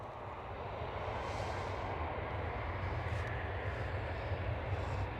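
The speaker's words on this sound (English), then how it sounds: "And the KLM 737-700 turning and burning right away." A KLM Boeing 737-700 takes off at Amsterdam Schiphol, its engines a broad, steady roar that swells slightly and holds at a distance without interruption.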